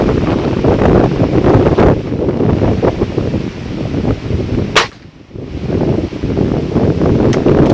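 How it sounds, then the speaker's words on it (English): Heavy wind buffets the microphone in loud, low rumbling gusts, broken by a couple of sharp cracks. "Oh, windy today."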